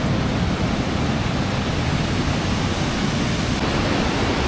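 Jaami waterfall in Vizianagaram, with a strong, heavy flow of water pouring over rocks: a dense, steady roar that holds level throughout without a break.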